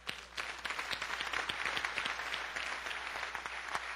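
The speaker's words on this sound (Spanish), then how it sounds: "Un aplauso al Señor." A church congregation applauds, a steady wash of many hands clapping at moderate distance through the whole stretch, with no voices standing out above it.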